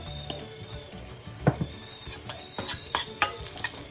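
A spoon stirs and scrapes through tomato chutney frying with turmeric powder and sesame seeds in a pan, with a soft sizzle beneath and sharp metallic clinks toward the end.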